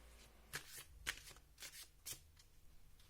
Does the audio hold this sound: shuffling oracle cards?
yes